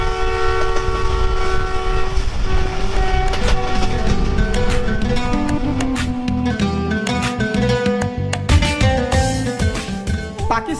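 A fast local train in Pakistan rushes along with loud continuous rumble and rattling wheel clatter, a horn sounding at intervals over the roar, close and dominant throughout.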